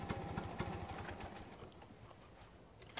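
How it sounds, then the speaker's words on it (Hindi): A scooter pulls up and comes to a stop. Its engine is a low, pulsing idle, quiet and somewhat distant, and it tapers off near the end. "तभी मन्नू का स्कूटर रुकने की आवाज आई"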